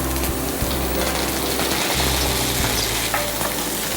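Loud, steady sizzling of coriander and curry leaves frying in hot coconut oil, with stirring scrapes and small crackles running throughout, close up and without talk.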